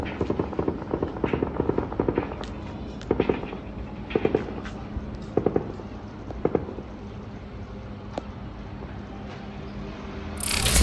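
Gunfire in Gaza crackles in rapid automatic bursts and scattered single shots, sharp and fairly close over a constant background rush, with a louder burst at the very end.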